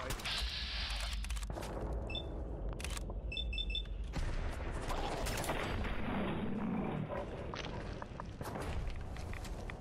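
Gunfire in the video game Fallout 4 during a fight in the Big Dig, a few sharp scattered shots and bangs mixed with clicks, footsteps and other game effects, moderately loud, with no talk.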